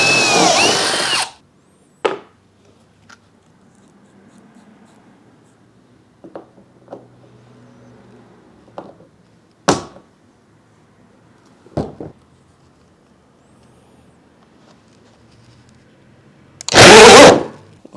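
A router spin-welding a plastic plumbing fitting whirs in a loud burst at the start and again at the end, with scattered clicks and knocks and a faint hum in between.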